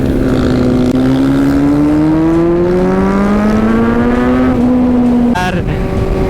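Kawasaki Z900 motorcycle engine revving loud and close during a ride through Patratu valley, its pitch climbing steadily for several seconds before a brief drop and quick re-rev.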